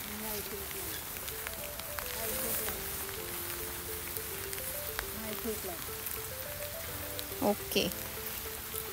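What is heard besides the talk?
rain falling at a farmhouse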